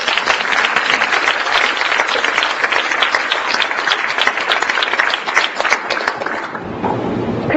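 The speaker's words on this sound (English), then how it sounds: "And you can clap for me." An audience breaks into steady, full applause, a dense wash of clapping at close range that carries evenly before tapering off at the end.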